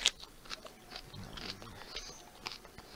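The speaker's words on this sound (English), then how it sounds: "he took a bite out of the onion" A raw onion is bitten into with a sharp crunch at the start, followed by a few seconds of close, moist crunching and chewing, with no talking.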